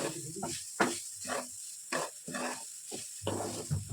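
Flattened rice fries with dried chilli in a dry pan, heard as a run of close, irregular sizzling and rattling bursts separated by brief quiet gaps.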